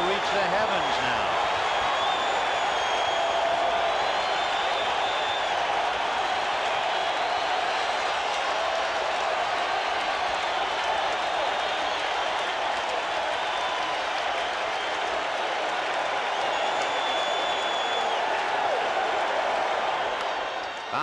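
A packed baseball stadium crowd roars continuously during World Series Game 7 between the Red Sox and the Mets, a dense sustained din of cheering with talk faintly under it.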